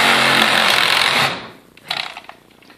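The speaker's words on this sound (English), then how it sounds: "you take a sawzall or you take a regular hacksaw. You take it right here" A reciprocating saw or hacksaw cutting through a wooden stair baluster: a loud, dense buzzing rasp runs steadily for over a second, then stops and leaves faint scattered clicks and handling noise.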